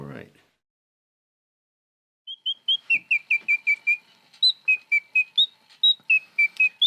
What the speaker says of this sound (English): Its chirping uses a bellows that opens and closes the old fashioned bird whistlers